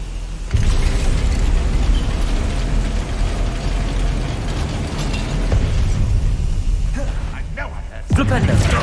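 A Bombarda spell explosion in Hogwarts Legacy bursts amid loud, continuous battle clatter and rumbling, with a sharp new blast near the end and a voice talking over the din.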